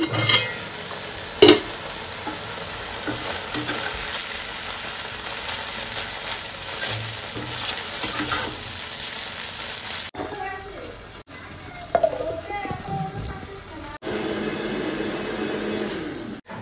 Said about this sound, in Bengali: চিংড়ি মাছটা অলরেডি ভাজতে দেওয়া হয়ে গেছে